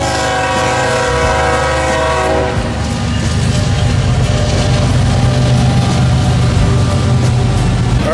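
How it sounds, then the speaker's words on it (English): A long freight or passenger train rolls past at close range with a loud, sustained horn blast over the steady rumble and clatter of the cars, continuing throughout with no talk. "As you can tell, the trains follow me here. The never-ending cycle of the trains"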